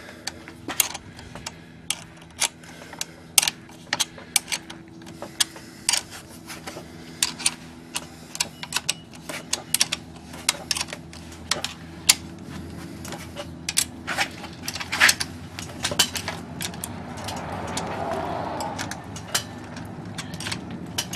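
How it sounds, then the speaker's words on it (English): Screws being tightened on a bicycle stub axle clamp during cycle assembly: a long run of sharp, irregular metallic ticks and clicks, close and fairly quiet over a low steady hum. "Tighten the screws until the gap in the clamp is gone."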